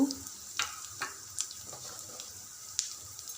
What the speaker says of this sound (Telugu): ఒక స్పూన్ జీలకర్ర ఒక స్పూన్ ఆవాలు ఇవన్నీ లైట్గా ఫ్రై అయ్యేదాకా